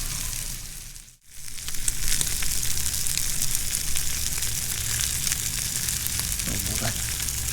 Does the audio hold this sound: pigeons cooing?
no